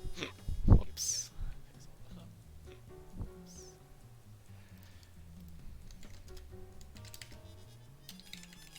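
Soft, quick keyboard typing picked up by a nearby desk microphone comes in scattered bursts of clicks, faint and close, with a few louder knocks and a low hum underneath.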